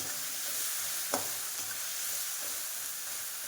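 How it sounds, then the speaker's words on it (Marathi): Ground green chillies fry in hot oil for a sabudana fasting dish, giving a steady close sizzle with a single sharp stir or tap partway through and no talking. "ही मिरची तेलात फ्राय करून घ्यायची आहे म्हणजे आपल्याला मिरचीची कच्ची टेस्ट येणार नाही"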